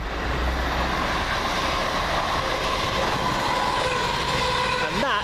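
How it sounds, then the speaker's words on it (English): A CrossCountry Super Voyager, Manchester Piccadilly to Bournemouth, runs through Coseley station with a loud, sustained rumble and rattle of wheels and carriages that holds steady throughout, a rising whine creeping in near the end. "coming down the blind side, 1 Oscar 16 from Manchester Piccadilly to Bournemouth across country"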